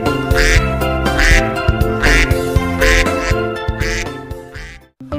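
A toy-style duck quacks in a repeated rhythmic pattern over bright, loud synthetic children's music, several quacks in a row, then a brief drop to near silence at the end.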